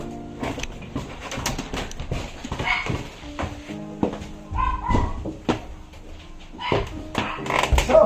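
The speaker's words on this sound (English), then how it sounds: "Oh, you got a doggy." A pet dog barks a few times indoors at a house entrance, the sharp barks breaking through between adults talking and greeting each other.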